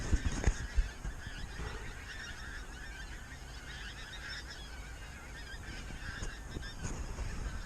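A large flock of pink-footed geese on a frosty morning calls loudly and continuously, a dense overlapping chorus of honks, with a few sharper nearby calls and thumps at the start.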